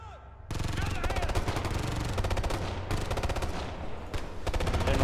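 Rapid gunfire from the video game Ghost Recon Future Soldier, sustained bursts of automatic fire close and loud after a brief quiet start, with short breaks between volleys.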